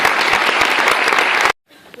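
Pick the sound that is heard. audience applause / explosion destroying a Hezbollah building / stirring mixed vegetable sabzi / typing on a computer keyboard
audience applause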